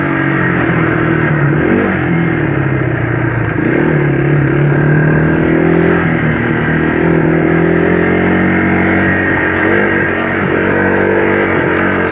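Yamaha YTM225 three-wheeler engine running steadily in fifth gear, a loud continuous mid-pitched drone with slight rises and falls in revs throughout.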